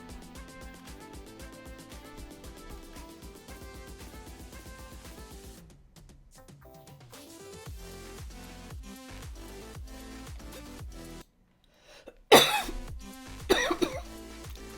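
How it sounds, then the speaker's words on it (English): Music plays with a brief gap, then a sharp burst of coughing near the end, loud and close. "Oh dear, coughing."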